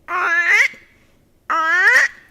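A human voice imitates the crying call of a frog: two loud, close, wavering nasal wails, each about half a second long, separated by a short silence, with nothing else heard.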